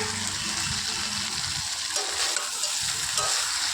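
Spices and vegetables sizzle and fry in a pan for a milk shukto, with steady close crackling and the scrape of stirring throughout, no talking.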